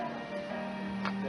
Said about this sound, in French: Les horloges du quai se mettent en marche.